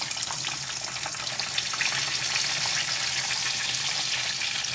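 Leftover corn reheating in a pan, giving a steady, loud, dense sizzle and crackle close by that continues evenly throughout.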